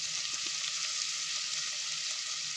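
Garlic, chili and curry leaves sizzle steadily in hot oil in a pan for beetroot poriyal, a close, continuous bright hiss with faint crackles and no talking.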